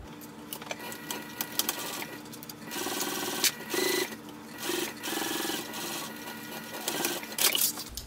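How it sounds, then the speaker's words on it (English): A sewing machine runs in several short bursts of stitching, each a few seconds long, top stitching tab to tab on pink fabric an eighth of an inch from a folded edge, recorded close by with pauses between runs. "Now for my top stitching, I'm only going to top stitch from tab to tab."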